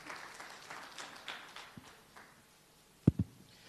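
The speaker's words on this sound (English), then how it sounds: "can we clap hands for the Honorable as he's coming?" Sparse, light hand clapping rises from a lecture audience welcoming an honorable guest, a few scattered claps fading out, followed by two sharp thumps near the end.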